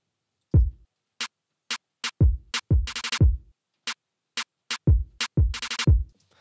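Drum strikes, deep thumps with sharper snare-like hits, some landing in quick rapid bursts, played close with no voices.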